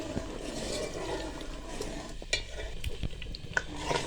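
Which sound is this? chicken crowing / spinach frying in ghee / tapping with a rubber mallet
spinach frying in ghee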